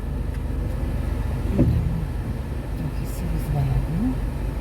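Car interior during a turnaround maneuver: a steady low engine and road rumble runs throughout at moderate level, with faint muffled voices in the cabin.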